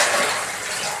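Water poured into a pot of basmati rice for vegetable pulao, a loud, full rushing splash close by, steady and without speech.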